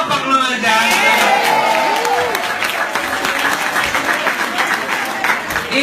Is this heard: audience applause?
yes